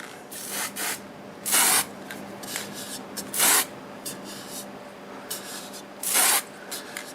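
Aerosol bursts of Deft finish sprayed to seal a Padauk wood bowl on a lathe: three strong hissing sprays, each about half a second, with quieter shorter puffs between them over a steady background hum.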